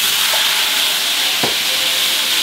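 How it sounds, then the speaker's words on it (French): Red wine hits a hot pan just after a filet mignon steak is taken out, giving a loud, steady sizzle that fills the whole moment, with a couple of faint utensil scrapes or clinks underneath. "Je déglace avec un peu de vin rouge."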